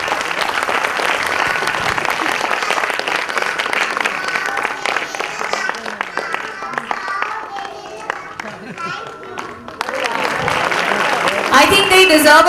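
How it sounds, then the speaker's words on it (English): An audience at a preschool annual day function claps for young performers, a dense sustained round of applause that thins midway and then swells louder again toward the end, with voices mixed in. "Can we please clap for them?"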